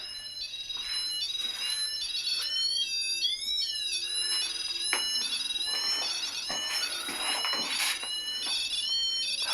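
A REM pod paranormal detector alarm in an abandoned building goes off with warbling electronic beeps and rising and falling tones that run the whole time over a faint low hum.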